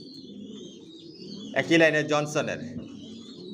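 Racing pigeons of a Johnson long-distance line softly cooing in a loft, a low steady murmur of birds, then someone speaks briefly over them.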